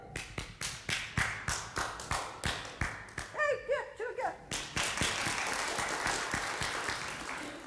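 Hand clapping from a small audience at a staged Christmas Carol performance, rhythmic claps building into steady applause with a brief burst of laughter in the middle.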